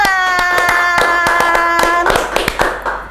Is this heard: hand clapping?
yes